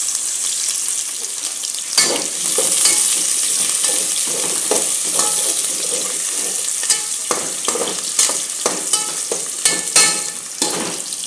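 Onions sauté and brown in a pan for ginataan monggo with mixed vegetables: a close, bright, continuous sizzle broken by frequent scraping and clattering stirs.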